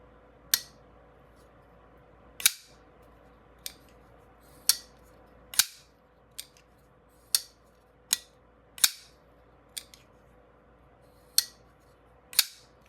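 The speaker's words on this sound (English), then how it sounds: "I don't know if you can tell or hear how poppy this detent is. I mean, listen to it click down." A ZT 308 CF folding knife is flicked open and snapped closed on its detent, giving about a dozen sharp, crisp clicks spaced irregularly, close and loud against a quiet background.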